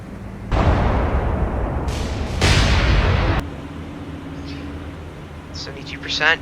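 Battleship turret guns fire in the naval video game War on the Sea: two loud, booming blasts a couple of seconds apart, each with a long rumbling tail, then a quieter background hum with faint high chirps near the end.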